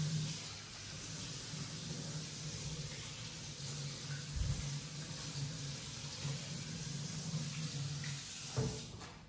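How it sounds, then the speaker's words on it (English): Hot water runs from a kitchen tap as a spoon is rinsed under it, a quiet steady hiss with a couple of soft knocks partway through and near the end. "So I just run it under some hot water."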